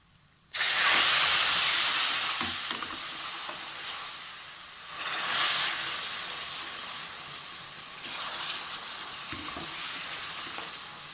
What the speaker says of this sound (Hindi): अब हम इसमें पानी शामिल कर लेते हैं।